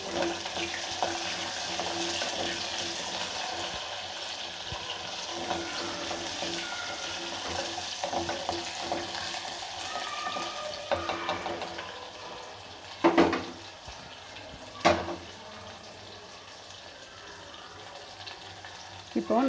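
Garlic cloves fry in oil in a pan for anchovy fish curry, a soft continuous sizzle with faint stirring, then a few sharp utensil knocks against the pan near the end.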